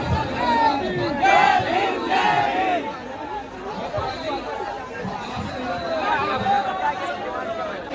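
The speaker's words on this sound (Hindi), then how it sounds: "अभी इतनी भीड़ है।" A large protest crowd at Jantar Mantar in Delhi, gathered over a UGC issue, shouts and chatters in a dense, steady roar, with slogan-like cries rising above the babble.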